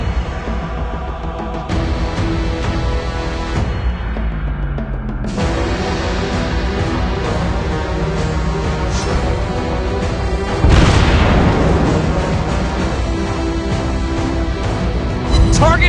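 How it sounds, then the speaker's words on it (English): Anti-aircraft guns in a video game battle fire in dense bursts of booms and crashes, loud and close, layered with rumbling impacts and a heavier explosion partway through. "Anti-aircraft gun on full alert."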